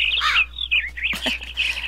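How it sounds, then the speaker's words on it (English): Birds chirping in Minecraft, a few quick, bright tweets and trills in close succession, clear and near with nothing else around them. "But if you like the birds and you want to keep them around, you feed them by just tossing out seeds."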